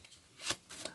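A deck of playing cards is shuffled in two quick, soft riffling bursts, faint and close, with near silence around them.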